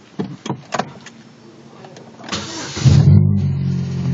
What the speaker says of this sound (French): Alors je vais mettre le véhicule en route.